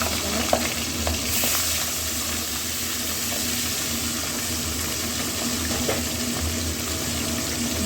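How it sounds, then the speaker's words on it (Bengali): Thin pabda fish fry in plentiful oil in a wok, a loud, steady sizzle running throughout with a few faint clinks and scrapes of a utensil, close by and without talking. "মাছগুলো এক এক করে ভেজে দিই।"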